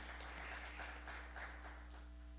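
Congregation applauding during a church service, a steady wash of clapping that holds at an even level for the whole stretch, over a low steady hum.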